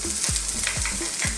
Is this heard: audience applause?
no